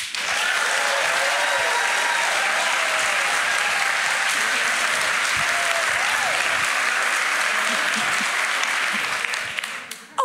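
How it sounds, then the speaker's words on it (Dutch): A theatre audience at a column festival applauds steadily for about ten seconds, a dense, even wash of many hands clapping that holds at full strength before cutting off abruptly at the end. "Laat even horen middels een applaus hoeveel liefde je voor je buurman of buurvrouw hebt."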